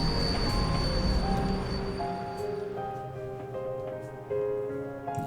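A train passing in the video game Trails of Cold Steel 4, a rumbling rush that fades after the first couple of seconds into steady humming tones and faint rolling, fairly quiet.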